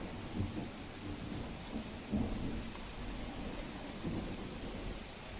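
Torrential rain pours down on the flooded village of Lath near Upleta, a constant heavy wash punctuated by low rumbles of thunder.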